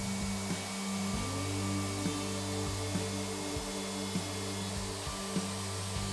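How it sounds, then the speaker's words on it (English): A handheld router fitted with a bearing-guided template bit cuts a quarter-inch pass into a Telecaster-style guitar body, a steady high whine with slight pitch dips as the bit bites into the wood, continuous and close. "Let's start routing at the first 1/4 inch pass with this bit."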